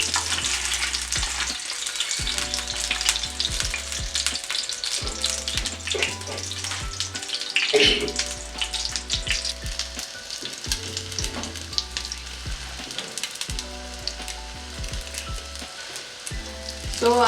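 Sausages frying in a pan, a continuous bright sizzle and spatter with intermittent low knocks and clatter of the pan over several seconds.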